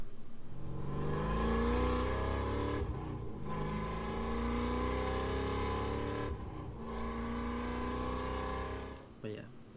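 A loud Nissan Z engine drones steadily while driving, with revs rising and falling through several gear changes, two brief dips where the throttle lifts, and the roar staying close and dominant for the whole stretch.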